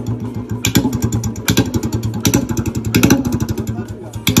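Royal Enfield Bullet motorcycle idling through a loud aftermarket silencer, a steady deep thumping exhaust beat close by, with people talking over it.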